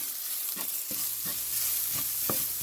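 Masala with tamarind powder and pepper powder frying in a pan, a steady sizzle broken by several scraping stirs of a spoon, close and alone.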